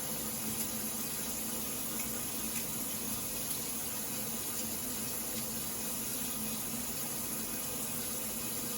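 Boiled eggs get rinsed under a running kitchen tap, a soft, steady hiss of flowing water that runs the whole time, faint and continuous.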